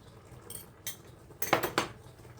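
A utensil scrapes and clinks against a pan while stirring a cream sauce with shallots, mushrooms and chicken, giving a few soft, close taps and scrapes in quick succession.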